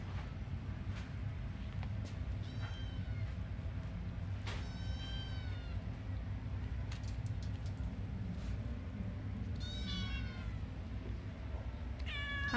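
Several cats meow repeatedly, with short and drawn-out cries scattered throughout, some close and clear, over a steady rumble of wind or background noise.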